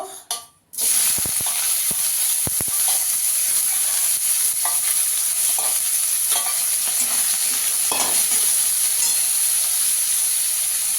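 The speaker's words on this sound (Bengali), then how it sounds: "এখানে আমি কড়াইতে তেল দিয়ে দিয়েছি। এবার শুটকি মাছগুলোকে আগে একটু ভেজে নেব।" Dried fish fry in hot oil in a wok with a loud, continuous sizzle that starts abruptly after a brief quiet moment and carries occasional crackles and spatters.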